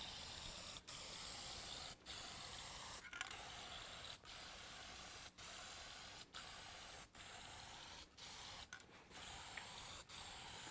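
Lacquer finish sprays onto wood in a loud continuous hiss, broken every second or so by short pauses as the trigger is released and squeezed again, alone without talk.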